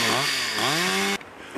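A cheap Chinese-made chainsaw runs loud and close, its engine revving up and falling back twice in quick surges before the roar abruptly drops away.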